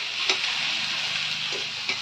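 Curry cooks in a pan with a soft, steady sizzle, and a few faint clicks of a utensil come through occasionally.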